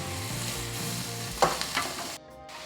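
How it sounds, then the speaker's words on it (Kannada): Chopped capsicum sizzles steadily in hot oil in a pan, with a few louder scraping stirs partway through and no voices. "ಕ್ಯಾಪ್ಸಿಕಮ್ನ ನೀಟಾಗಿ ಫ್ರೈ ಮಾಡ್ಕೋಬೇಕು ಎಣ್ಣೆಯಲ್ಲಿ"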